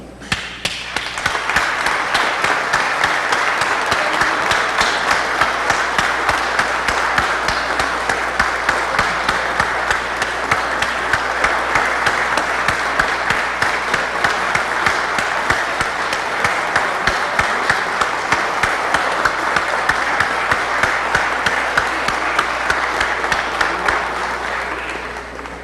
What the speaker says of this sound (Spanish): nos pongamos de pie y le brindemos un aplauso a la memoria de Rodrigo Lara Bonilla.